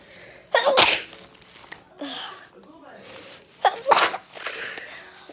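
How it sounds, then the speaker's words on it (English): A person sneezes twice in the morning, two sharp, close bursts a few seconds apart, with softer breathy sounds and a short pause between them. "Oh, I'm gonna sneeze."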